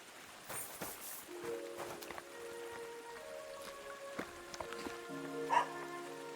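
A dog whimpers and barks in Kingdom Come: Deliverance II, with a few soft yelps amid outdoor game ambience and sustained musical tones.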